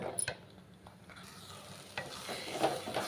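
A spoon stirs a thickening mixture in a cooking pot, scraping softly with faint sizzling beneath, a few sharper clinks near the end; no talking.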